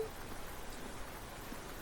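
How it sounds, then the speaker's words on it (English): Steady rain in the video game Trails into Reverie, a soft continuous hiss of falling drops with no talk over it. "Great, now it's raining."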